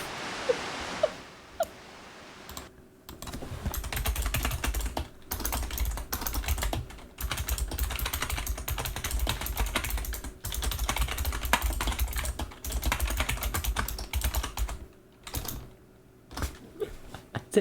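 Continuous fast typing on a computer keyboard, near and steady for most of the stretch, with short gaps and a few isolated clicks at the start and end; no voices.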